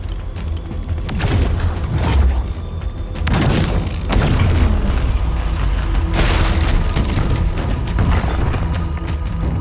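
Explosions in the video game Halo Infinite, a run of heavy booming blasts with rumbling low-end tails and crackling bursts, several loud hits spaced a second or two apart over continuous rumble.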